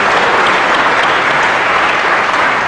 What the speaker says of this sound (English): now give yourself a round of applause